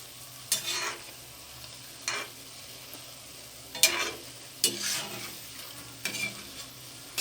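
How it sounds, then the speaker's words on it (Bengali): Mango fritters (bara) fry in hot oil in a village-style kitchen, a faint steady sizzle broken by several louder bursts of stirring or frying, quiet and close with no talking. "এইভাবেই আমি সবগুলো বড়া ভেজে নেব।"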